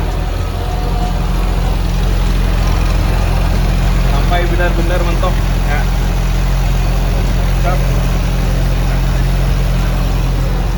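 A car engine idles steadily with a gas analyzer sensor placed in its exhaust pipe, a loud constant drone running throughout while a person talks over it.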